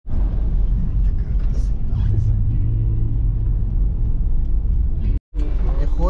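Car engine rumbling steadily while driving along, with a deep continuous low drone, a brief cut near the end, and people talking over it.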